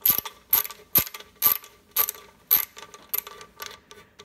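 Close, evenly spaced bursts of ratcheting clicks, about two a second, come from a hand tool backing out tight screws from the base of a 28-year-old KitchenAid stand mixer. There is no talking.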